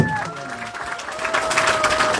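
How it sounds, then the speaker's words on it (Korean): Crowd applause at a campaign office opening event in Hwaseong, South Korea, a steady wash of clapping lasting a couple of seconds with a voice briefly audible over it. "박수 박수."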